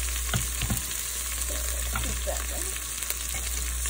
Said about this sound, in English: Just now I think it's time for you to mix the spinach.